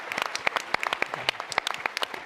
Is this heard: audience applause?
yes